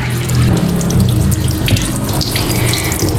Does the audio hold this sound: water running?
yes